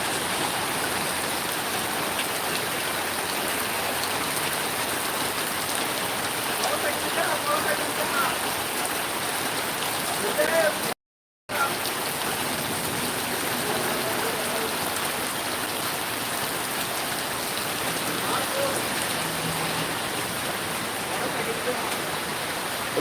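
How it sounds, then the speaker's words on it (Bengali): Steady rain falling outdoors around Gazipur Chowrasta, a dense continuous hiss of drops with a brief silent break partway through, with faint voices mixed in beneath. "বৃষ্টিটা দাও, বৃষ্টিটা দাও"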